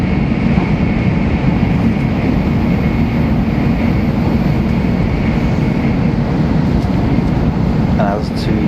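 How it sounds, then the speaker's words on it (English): Steady rumbling drone inside a Japanese train gathering speed between stops, a continuous loud low hum with faint squeaks near the end. "so the train's going to really pick up some speed on the way through."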